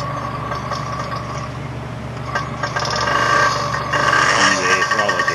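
A 1968 Yamaha motorcycle engine idles steadily up close with a low, even rumble, revving slightly louder toward the end.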